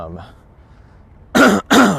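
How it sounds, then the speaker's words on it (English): Two harsh coughs burst out close to the mic near the end, after a quiet stretch with a brief voice at the start. "I'm coughing"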